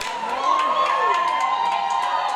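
A rowdy wrestling crowd at SPW Queenstown WrestleFest 2020 in New Zealand cheers, shouts and whoops without pause, a loud, close wall of mixed voices with a few higher yells standing out.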